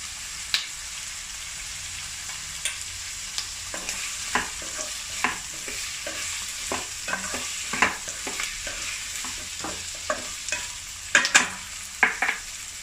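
Onions frying in a pan for chicken pasta are stirred with a steady sizzle, while a spoon scrapes and knocks against the pan in irregular clicks that sharpen into a quick cluster near the end.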